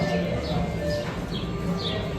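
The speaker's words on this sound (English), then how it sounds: "You hear the birds?" Birds chirp indoors at Magic Kingdom: a handful of brief, high calls scattered through a steady din of crowd chatter and background noise.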